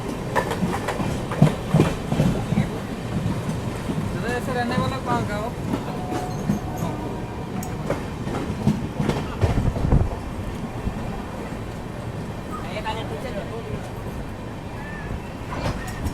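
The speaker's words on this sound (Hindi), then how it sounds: "बर्धमान जंक्शन जैसा स्किप हुआ ना, उसके बाद से फ्लैट 130 पर अपनी राजधानी भागी है।" The Sealdah–New Delhi Rajdhani Express runs at about 130 km/h. Its wheels clack steadily over the rail joints under a continuous rumble, with wind buffeting the microphone throughout.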